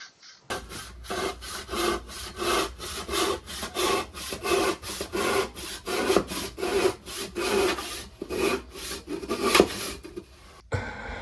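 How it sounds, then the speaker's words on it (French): A hand saw rasps back and forth through a block of aerated concrete in quick, regular strokes, about two per second, close and with no talking. "J'ai pris un carré de béton cellulaire qui me restait, donc ça se coupe à la scie."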